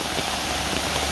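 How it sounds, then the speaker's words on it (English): Steady, dense rain pours down on a wet day in Costa Rica, a loud, close and even hiss of drops hitting surfaces with no voices over it. "this rain ain't playing with our heads at all"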